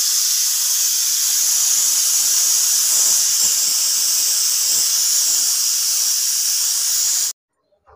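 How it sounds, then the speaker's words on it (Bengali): Pressure cooker on a gas stove releasing a loud, continuous high steam hiss for about seven seconds, then cutting off abruptly into silence. "এখন আমি প্রেসার কুকারটা বসিয়ে দিলাম গ্যাসে।"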